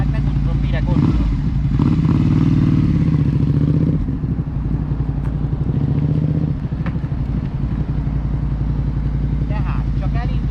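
A motorcycle engine idles at a low putter and pulls away on a tiny bit of throttle during a first riding lesson. An instructor talks steadily over the engine.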